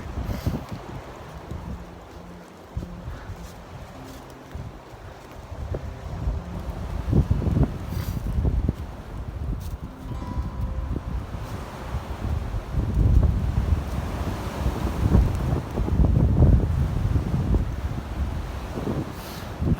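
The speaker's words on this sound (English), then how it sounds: "Hear the wind?" Strong wind blows hard and close across the microphone in gusting, roaring surges that build and fade over the stretch, with no speech.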